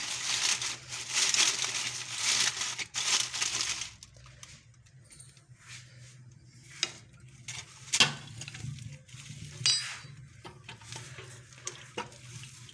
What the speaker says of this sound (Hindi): देखिए इस तरह से हम बिछा देंगे बटर पेपर को